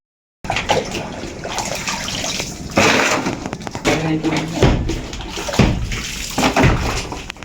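Water gushes steadily from a tap into a basin, a loud continuous splashing rush with occasional sloshes and clinks.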